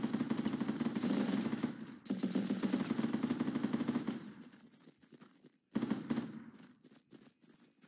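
Fully automatic AA-12 shotgun fire in the trench-warfare game Running with Rifles: two long sustained bursts of rapid blasts, then a short final burst after a pause, loud and close.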